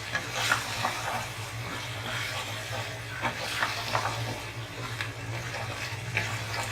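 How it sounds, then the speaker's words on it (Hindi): Keema and capsicum frying in a pan, a steady low sizzle with scattered stirring clatters and scrapes, close and moderately quiet throughout with no talking. "इसके बाद मैं इसको 1 से 2 मिनट अच्छी तरीके से भूनकर ढककर पकाऊंगी"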